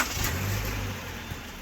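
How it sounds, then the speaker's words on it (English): A 2013 Subaru Crosstrek XV with about 68,000 miles idles while warming up, a steady low engine rumble with broadband hiss, close and continuous, with no voices. "I'm going to get the engine warmed up"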